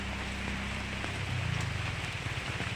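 Steady rain falls on a dark, cool day, a dense even hiss running throughout with a low droning hum underneath.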